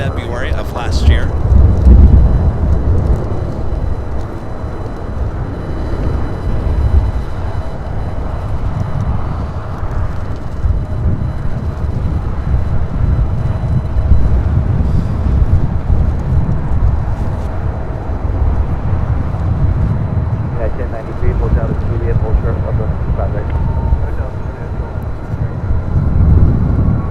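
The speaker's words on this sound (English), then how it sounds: "Southwest Airlines flight 1188 heading to Houston, Texas. 737 MAX 8, brand new, just delivered in February of last year" A Southwest Airlines Boeing 737 MAX 8 departs LAX, its jet roar a broad, sustained rumble that swells and holds, loud and fairly close, with a voice talking over it.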